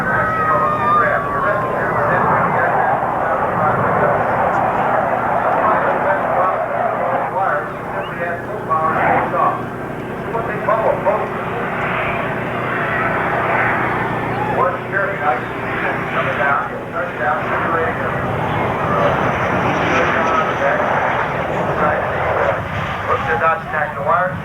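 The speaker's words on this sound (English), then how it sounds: "Dave now will perform a touch and go to our left over here." Fixed-wing airplane engine droning steadily through a touch-and-go pass at a 1992 air show in Bowling Green, a loud continuous roar from a distance mixed with a public-address announcer talking throughout.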